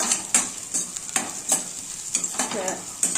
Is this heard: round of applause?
no